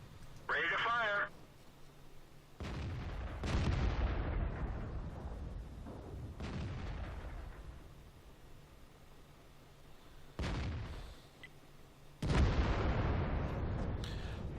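Self-propelled artillery in World of Tanks fires several heavy booming shots with long rumbling decays, spaced a few seconds apart, while a voice comes and goes between the blasts.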